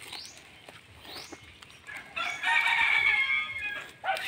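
Native Bisaya chickens cluck and call loudly nearby on a farm, with a sustained, strained crowing-like call in the middle, while chicks give thin rising peeps at the start and end.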